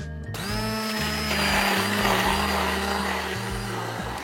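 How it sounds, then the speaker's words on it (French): An immersion blender whirs steadily in a pot of oat waffle batter made with plant milk and eggs, a loud continuous motor drone whose pitch dips and rises briefly as it works through the mixture, with no talking. "C'est juste tout dans le pot, on met le mixeur et on a la pâte."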